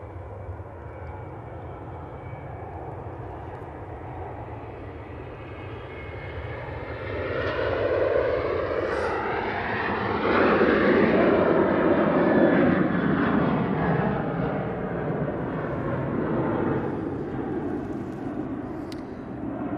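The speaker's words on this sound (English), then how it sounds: "the Qatar is making its way out" A Qatar Airways jet taxis out for departure at Manchester Airport, its engine whine and roar swelling from a distant drone to a louder, fuller rush midway and easing slightly after, heard alone at moderate distance.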